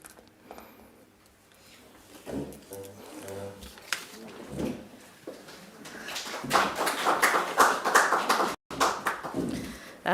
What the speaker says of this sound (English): Thank you for this spontaneous applause